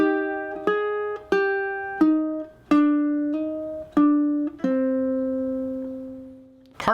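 Ukulele playing a Halloween-themed chord melody, a series of plucked notes struck roughly every half second or so, each ringing and decaying, with the last note sustained longer; close and clear with no talking.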